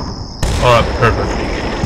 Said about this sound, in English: Oh, artillery, are you serious?